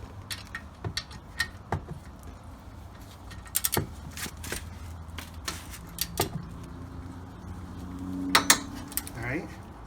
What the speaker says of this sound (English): grab your torque socket wrench, 98 foot-pounds to tighten this